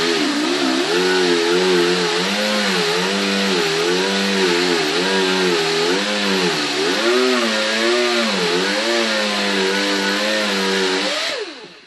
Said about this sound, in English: When you grind it, it gets hot and it'll burn your finger.